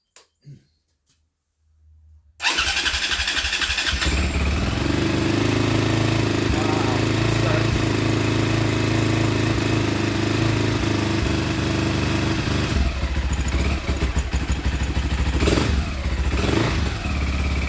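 A small engine that had sat unused for years, its fuze not making contact, fires up with the choke held on and runs loud and steady with a rough clattering idle, a few faint knocks before it catches.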